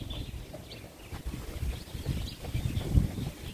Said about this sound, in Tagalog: Malakas ang hangin guys kaya dito tayo banda.